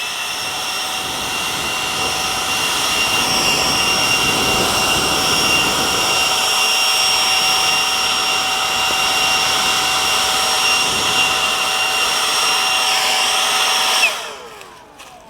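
A leaf blower roars steadily and loudly at close range for about fourteen seconds while clearing a fire line outdoors, its whining engine then cutting off abruptly near the end.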